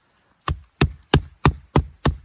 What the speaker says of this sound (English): I'll hammer it through and then split this out